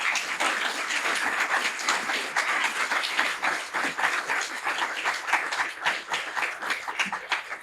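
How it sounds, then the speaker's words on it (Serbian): An audience at a talk in Belgrade applauds at the close. Dense, steady clapping from a crowd goes on without a break, close and full, with faint murmurs in the background. "Može jedan aplauz za kraj?"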